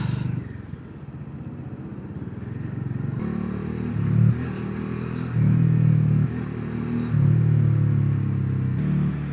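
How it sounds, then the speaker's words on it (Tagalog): Slow expressway traffic with motorcycles and cars passing: a continuous rumble of engines, with several louder surges as motorcycles accelerate nearby, steady and moderately distant throughout. "Grabe rin yung traffic dito."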